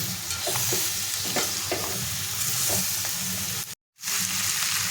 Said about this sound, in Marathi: आता ह्याच्यामध्ये आपण मुंडी जी आहे स्वच्छ धुवून घेतलेली आहे ती टाकून घ्यायची आणि ती परतून घ्यायची आपल्याला